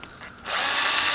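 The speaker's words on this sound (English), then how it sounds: "I want to take this countersink bit and kind of countersink him in there." A power drill with a countersink bit spins into a homemade hornet fishing lure, a brief close whine that ramps up and holds steady and loud after a quiet start.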